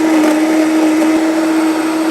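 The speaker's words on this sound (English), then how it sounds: "even with a really great blender, the dates take a little bit longer." A blender runs loud and steady with a strong whine, blending dates, salt and vanilla for homemade nut milk.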